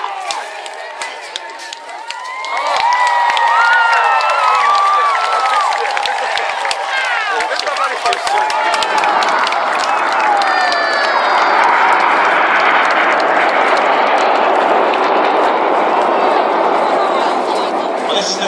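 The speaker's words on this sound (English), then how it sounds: "lots of clapping, cheering as the smoke comes on for the detonator" Large outdoor crowd claps and cheers at a Red Arrows air display at a seaside pirate day event, a broad steady wash of applause and whoops swelling in after a quieter start and continuing loudly throughout.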